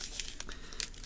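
Plastic wrapper on a 1991 Pro Set SuperStars MusiCards trading card pack being pulled open, giving brief crinkling and crackling bursts close up with no voices.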